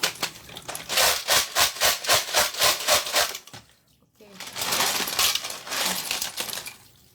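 Clams swirl in a container of water to shake the sand off, giving a rapid, rhythmic rattling and scraping of shells. The sound pauses briefly, then resumes as a denser, continuous churning.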